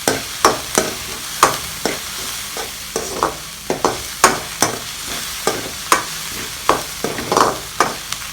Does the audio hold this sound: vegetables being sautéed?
yes